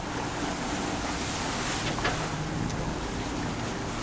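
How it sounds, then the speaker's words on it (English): Six-foot ocean waves wash steadily around a sailboat offshore in rough conditions off Florida, a continuous roar of surf and wind noise with no talking. "now we've got 6-foot waves right here"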